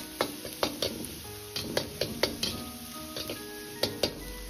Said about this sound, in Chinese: 继续翻炒几下，再放入葱蒜炒出香味